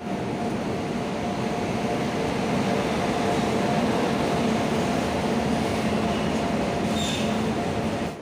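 Passenger train, the Chennai Mail Express in a 2nd AC coach, arriving at Chennai Central: a steady, loud low rumble of rolling wagons with a faint high squeal near the end, no talk.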